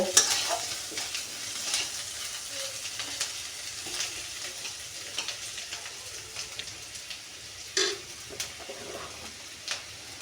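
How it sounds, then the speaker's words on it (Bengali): A spice paste fries with browned onion in oil for a bottle gourd greens and prawn dish, giving a constant close sizzle like rain, with repeated spatula scrapes and stirring clatters and no talking. "আমি একটু পর পর করে আমি পেস্টটা একটু এপুট এপুট করে আমি নেড়ে ছেড়ে নেব।"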